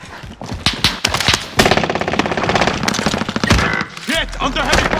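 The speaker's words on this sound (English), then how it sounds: "Get under heavy fire!" Rapid machine gun fire from Call of Duty: Modern Warfare, dense bursts of gunshots running through most of the stretch amid battle noise, with shouted in-game voices mixed in near the end.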